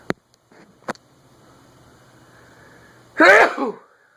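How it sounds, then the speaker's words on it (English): A single sharp sneeze bursts out near the mic after a couple of quiet clicks and a soft hum, followed by a brief trailing breath. "I think I gotta sneeze."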